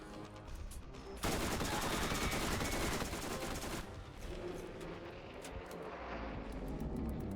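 Rapid gunfire from a revolver rattles through a boss fight in the Borderlands video game, a dense burst that swells loud partway through and then carries on as steady shooting under an explosive game din.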